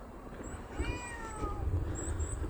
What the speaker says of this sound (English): I heard meowing. I'm like, wait, there's like a random cat just chilling over there.